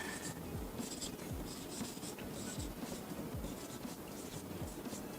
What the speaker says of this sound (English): You're going to write that in so you know what property you're assigning.